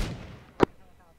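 Artillery fires a single loud boom in the military video game ArmA, a sharp blast with a short tail, heard alone after fading background noise.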